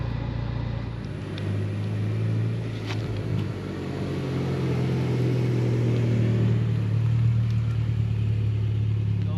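A Mitsubishi Lancer Evolution X GSR with a five-speed manual gearbox pulls away, its engine droning steadily and rising in pitch under a constant road and wind rumble, heard from inside the car.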